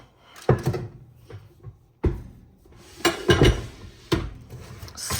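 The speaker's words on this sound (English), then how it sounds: "stir this again really good." Utensil stirring oatmeal bar batter with chocolate, banana and peanut butter in a bowl, giving a few sharp scraping clinks against the bowl separated by quieter pauses, close and alone.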